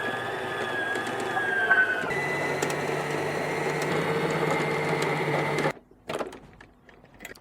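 A sewing machine refills its bobbin with a steady mechanical whir for several seconds, then cuts off abruptly, leaving a few faint clicks and handling noises.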